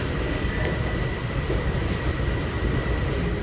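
A Philadelphia Broad Street Line subway train runs through an underground tunnel on a quadruple-tracked line, a loud steady rumble with faint wheel squeals and rail clatter, no voices.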